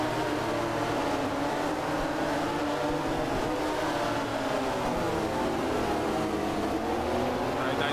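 Motorcycle engine in the MotoGP 13 racing game, held at a high, steady revving drone that runs unbroken and loud throughout.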